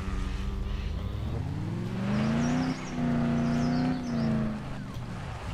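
A Jeep-like car engine in the Dead Island Riptide video game hums steadily, then revs up to a louder, higher drone midway before easing back, close and continuous.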